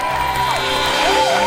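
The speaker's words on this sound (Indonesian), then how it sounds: "Saya mau kasih tepuk tangan dulu untuk teman-teman dari Institut Ilmu Sosial Ilmu Politik Jakarta." Studio audience on a live Indonesian TV talk show applauding and cheering, a dense, steady wash of clapping with scattered whoops that holds at an even level for the whole short stretch.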